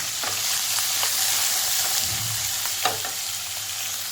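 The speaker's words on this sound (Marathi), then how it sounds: "आपण आता याच्यावरती दोन उभ्या कापलेल्या मिरच्या टाकणार आणि दोन मोठे कांदे कापून घेतलेले आपण" Vertically slit green chillies and two large sliced onions sizzle loudly in hot oil seasoned with hing and bay leaf for soybean masala, a constant close frying hiss with a few soft stirring scrapes.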